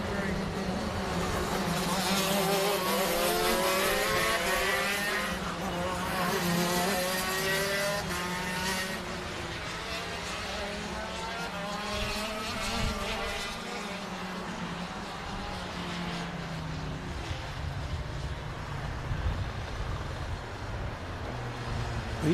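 Racing karts at Forest Edge Kart Club buzz past in a continuous, rasping engine drone that swells and fades as they circuit, with a commentator talking over the noise throughout.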